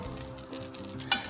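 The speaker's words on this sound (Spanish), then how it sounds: "lo que vamos a hacer es meter nuestra carne en este mismo aceitillo" Beef sears in hot oil, left from frying onions, for carne en su jugo estilo Jalisco, giving a close, steady sizzle with a short scrape or clink near the end, no talk.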